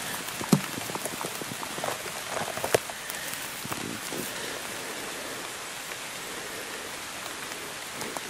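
Rain falling steadily in an autumn forest during a mushroom hunt, a dense even patter on leaves and surfaces with a few sharper nearby drops, continuous and close, with no talk.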